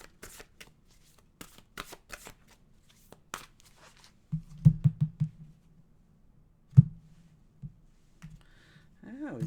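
Oracle cards being shuffled by hand, a run of crisp riffling slaps and clicks, then a denser burst of flutters and a single loud snap, close and clear with no talk.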